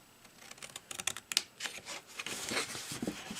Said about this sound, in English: So I'm going to cut a straight line on this side of this score line